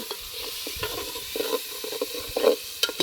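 Tomatoes go into vegetables already frying in a pan over a wood-fired stove, giving a soft sizzle with scattered stirring scrapes and clinks, fairly quiet and without talk.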